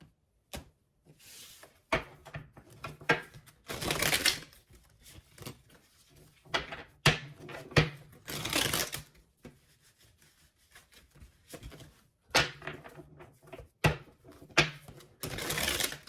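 A tarot card deck being shuffled, giving repeated papery riffles and rubbing bursts at close range with soft taps between them, broken by brief pauses, and no talking.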